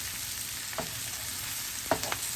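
Cabbage frying with bacon in a pan, a steady hissing sizzle up close with two brief stirring clatters, no talking.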